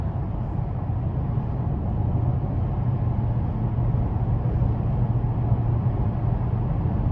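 Steady low road and engine drone inside the cabin of a 2022 Nissan Maxima SR cruising at 70 mph, a continuous even hum with tire roar, no talking.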